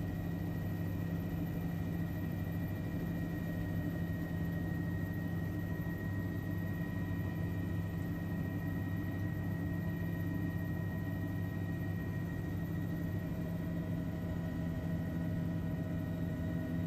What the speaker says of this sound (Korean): 금세 헬기 고도가 높아지고 있습니다.